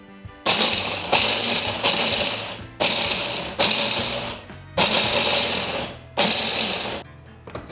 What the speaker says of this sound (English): It's like an immersion blender, like above the bowl